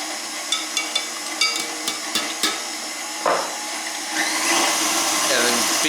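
An electric mixer beats lemon cookie dough with fresh lemon zest in a home kitchen; a few sharp taps and clicks come first, then the beaters start with a steady, close whirring that continues to the end.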